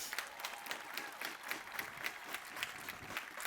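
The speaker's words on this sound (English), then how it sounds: "Please applaud for them." A commencement crowd applauds, many hands clapping in a steady, fairly faint patter from a distance.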